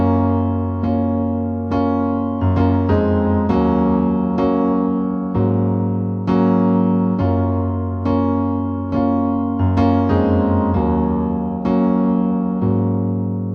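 A piano plays the chords of a song's bridge section in a steady rhythm, the struck chords ringing fully and continuously with no talking over them.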